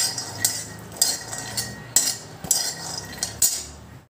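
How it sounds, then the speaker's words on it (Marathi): Peanuts dry-roasting in a kadhai, stirred with a metal spoon for sabudana khichdi: repeated sharp scraping clinks against the pan at a steady, uneven stirring rhythm, close and fairly loud, with no talking. "आपले शेंगदाणे मस्त भाजले जात आहे. एकसारखं परतून घ्यायचं आहे."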